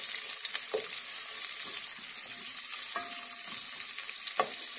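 A generous batch of onions frying and being stirred for chicken curry, a steady crackling sizzle up close with several scraping spoon strokes and a few clicks against the pan.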